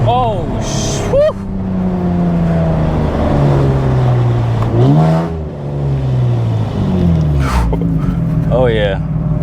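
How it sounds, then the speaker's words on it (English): Infiniti Q60 running Z1 turbos on a stock motor at around 740 wheel horsepower, revved out in sustained pulls. The loud, close engine drone rises and falls between shifts, with a few short sharp bursts and some talking over it. "This car sounds too good being revved out."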